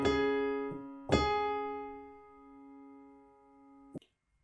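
A few piano notes and chords from the chorus of a song ring out one after another, each left to sustain and fade before a final short note, with no voices.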